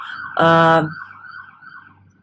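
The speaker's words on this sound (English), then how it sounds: "I just got distracted from an alarm outside" Loud siren or alarm outside wailing in one short burst, then fading into a faint lingering tone, with no talk over it.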